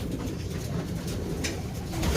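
Soft, low cooing from pigeons, one of them with a cold, faint and steady against a quiet background hum.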